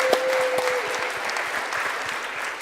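A startup pitch-final crowd applauds as the next team is welcomed, giving dense, even clapping that holds steady throughout, with a brief tone near the start.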